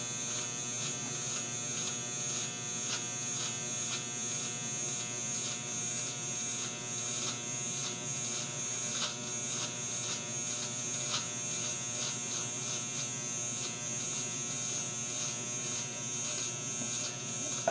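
Electric hair clippers cut a guideline during a self-administered fade, giving a steady close buzz with slight rhythmic variations as the blade passes through hair.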